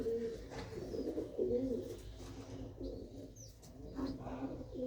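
Pigeons coo nearby in a run of soft, low, throaty calls, repeating at an easy rhythm over a faint background hum.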